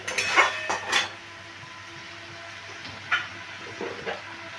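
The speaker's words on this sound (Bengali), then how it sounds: "ভালো করে এটা আবার আমি নাড়িয়ে নিচ্ছি।" Rupchand fish curry stirred in a sizzling pan, with a few scraping clinks of the spoon early on over a steady low frying hiss.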